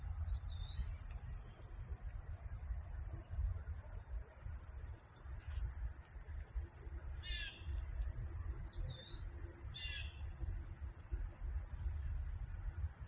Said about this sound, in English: Just hearing the crickets and the birds is so peaceful.